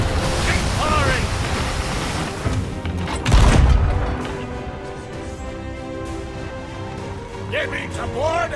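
Ship cannon fire in Sea of Thieves, a heavy boom near the middle standing out over constant ocean surf and wind, with voices talking around it.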